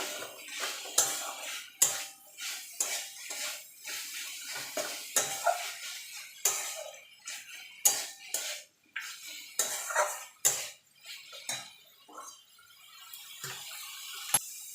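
Fried red amaranth greens with peanuts and a pinch of sugar being stirred in a pan, with irregular scraping and clinking of a metal spatula against the pan, close and fairly quiet, no speech.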